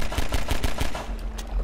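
Rapid bursts of gunfire from the video game Half-Life 2: Episode Two, a quick run of sharp, evenly spaced shots followed by a couple more, loud against steady game ambience.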